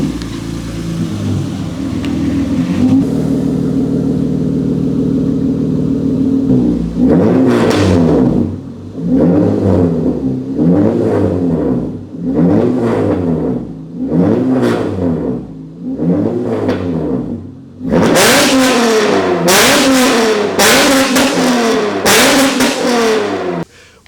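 Acura TL-S with RV6 pre-cat deletes, an RV6 J-pipe, a Dynamax resonator and a straight-pipe exhaust, idling raspily and then blipped through a string of sharp revs, ending in several quick, loud, rapid-fire blips.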